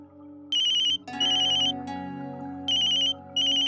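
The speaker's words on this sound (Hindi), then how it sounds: "दीदी, माँ का फोन है।" A mobile phone ringtone plays a bright, repeating electronic melody in short bursts over a sustained tone, loud and close, with no talking.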